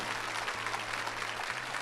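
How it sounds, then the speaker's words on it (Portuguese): A church congregation claps together during a family Mass homily, a dense, even patter of applause filling the space throughout at moderate loudness. "pode aplaudir mesmo"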